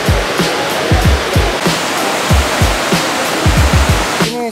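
The fast-flowing Merangin River near Bangko, Indonesia, swollen after rain, roars as a loud, steady close-up rush of water, with low thumping surges breaking through the constant wash and no voices.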